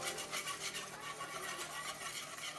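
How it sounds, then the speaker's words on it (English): A wire whisk blends soup mix into liquid, making rapid, rhythmic scraping and swishing strokes close up that continue steadily without any voices. "use your wire whisk to start blending it in and breaking it down"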